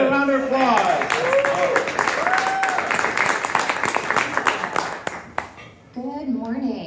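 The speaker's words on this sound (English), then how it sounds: "Let's give a round of applause." Audience clapping for a presenter at a talk fills most of the stretch as dense, steady applause, with a voice speaking over it at the start and another voice coming in near the end as it dies away.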